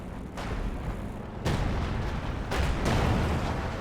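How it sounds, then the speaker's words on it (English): Artillery barrage in Company of Heroes 2: heavy booming impacts land one after another, with deep rumbling blasts rolling over the battlefield and a strong hit near the end of the short burst. "we have artillery coming down"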